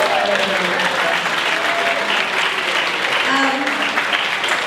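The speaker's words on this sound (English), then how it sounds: "I think a round of applause for those judges." Audience applause for the judges at the Mr Gay World 2018 pageant, steady dense clapping from a large crowd sustained throughout, with faint voices mixed in.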